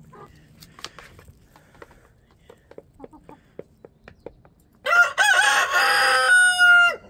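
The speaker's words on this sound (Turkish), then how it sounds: "Yedi tane tavuğum, bir tane horozum var." Scattered soft clucks from a nearby flock of seven hens, then the flock's rooster bursts into a loud crow close by that rings out for a couple of seconds.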